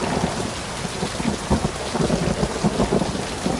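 Steady heavy rain in a video game pours down with low thunder rumbling underneath, a dense continuous wash of sound with no voices.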